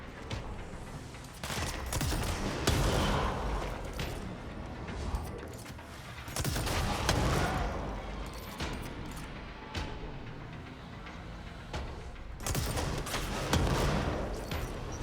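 Video game explosions and gunfire, a dense, loud, continuous barrage of blasts and rattling shots in rolling waves, with no voice over it.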